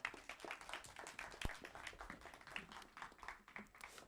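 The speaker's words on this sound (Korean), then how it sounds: "박수 부탁드립니다." A small audience at a final team presentation event gives applause, individual claps distinct and irregular rather than a dense roar, moderately quiet, with a sharp knock partway through.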